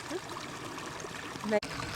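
Shallow stream being crossed on a Dartmoor walk, a soft steady trickle and babble of water, close and fairly quiet, with a brief knock or splash near the end.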